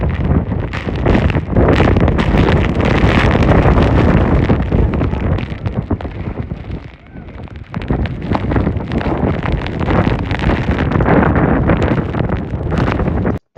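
Loud, relentless wind from Category 4 Hurricane Helene making landfall, buffeting close up, a harsh crunching rush like gravel being shuffled, dipping briefly midway before surging again.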